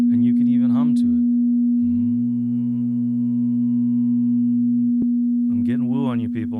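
A white jade singing bowl rings with a steady, pure sustained tone that holds for several seconds, with a person talking over it at the start and end.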